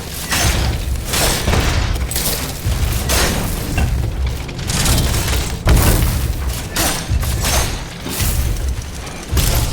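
Dense, loud gunfire and booming impacts fill a fight in the video game SteelRising, with bursts and heavy crashes overlapping almost continuously and no talking.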